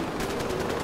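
Rapid video game gunfire from Far Cry 4, aimed at a beam, forms a dense continuous rattle over a steady hum for under a second, with no talk.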